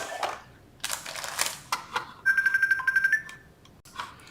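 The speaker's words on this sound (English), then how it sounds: "my phone was ringing" A mobile phone ringtone plays a steady electronic tone for about a second amid nearby tapping and handling noises during paper crafting, fairly close and moderately loud.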